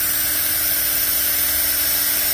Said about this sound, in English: Right, so I've basically just drilled the hole